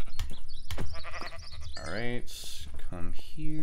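A Minecraft sheep gives a couple of short, wavering bleats near the end, following a spoken phrase and some clicky game noises.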